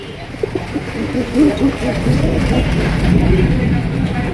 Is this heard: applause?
no